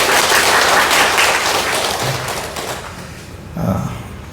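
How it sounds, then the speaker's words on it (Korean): A church congregation claps in dense applause that swells, then gradually fades out, followed by a brief thump near the end. "서로에게 한번 격려하는 의미로 박수 한번 칩시다."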